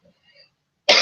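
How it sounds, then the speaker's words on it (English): A man coughs once, a short, loud burst that comes abruptly after near silence. "I've got a little bit of a cough."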